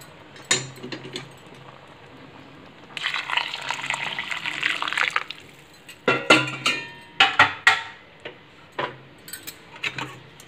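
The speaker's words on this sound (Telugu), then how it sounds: "ఇప్పుడు వాటర్ వేసుకుందాం ఫ్రెండ్స్" Water poured into a pot of chicken rice for chicken khushka, quiet at first, then a sustained gush of pouring liquid, followed by a string of sharp clinks and splashes that come and go.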